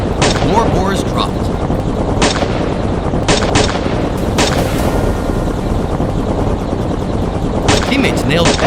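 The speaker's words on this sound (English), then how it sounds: "my brother's shots rang out from the other side." Gunshots ring out during a wild boar hunt outside a hidden cave, with several sharp cracks scattered through a dense, loud outdoor din.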